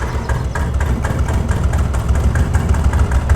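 An old tractor's engine in Farming Simulator 25 runs at a steady low idle, a loud, continuous rumbling chug with a faint rhythmic pulse and no talk over it.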